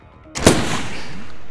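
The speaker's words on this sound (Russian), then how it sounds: "Вот это выстрел" A single loud gunshot from a rifle in the DayZ video game on the Namalsk map, a sharp crack followed by a long fading tail of echo, with no talking.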